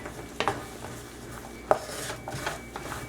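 A spoon scrapes and knocks around a pan of almonds in thickening sugar syrup, with a few sharp clinks and soft rubbing strokes at a quiet, close level.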